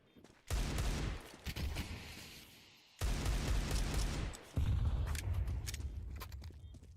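Counter-Strike 2 gunfire during a pro esports match: loud bursts of shots cut in abruptly, a sharp volley, a pause, then another sustained rattle of fire, with faint game ambience between.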